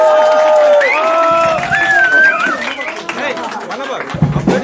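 Audience at a 2006 rock concert in a youth centre in Rize, Turkey, breaks into a loud wash of applause and cheering, with shrill whistles rising and falling over the crowd noise before it thins out.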